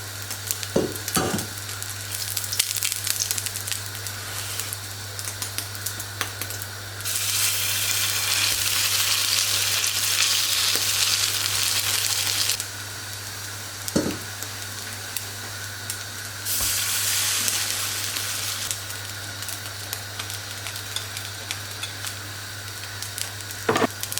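Hatay sac flatbread frying on a hot griddle while its other side browns, a loud steady sizzle that swells into two longer bursts of bright hiss, with a low constant hum and occasional soft knocks.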